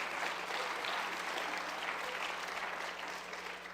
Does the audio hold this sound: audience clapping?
yes